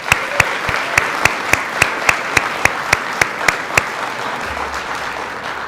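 Students at an IT academy year-end celebration applaud their instructors: a broad wash of crowd clapping, with one nearby clapper striking sharp, evenly spaced claps that stop shortly before the end.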